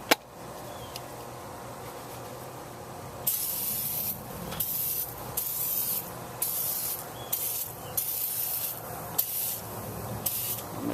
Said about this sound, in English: You can just spray something like this, tire foam that cleans and shines, and it'll clean things up.